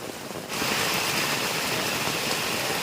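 Heavy rain hisses steadily and loudly, a dense wash of noise that jumps up in volume after half a second and continues unbroken.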